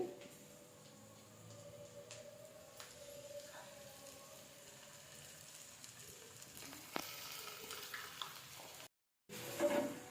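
Ginger-garlic paste fries in a pan for a pumpkin fry, giving a faint, steady sizzle with occasional soft stirring scrapes. A brief silent gap near the end is followed by a slightly louder burst of sizzling.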